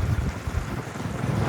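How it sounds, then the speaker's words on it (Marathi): Strong wind buffeting a microphone near the sea at Kashid beach on the Konkan coast, a steady loud rumbling roar with gusty low-end blasts throughout, alone. "वारा खूप जास्त लागतोय."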